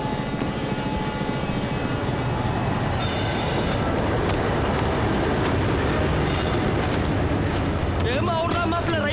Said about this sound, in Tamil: ரயில் கிளம்பிருச்சு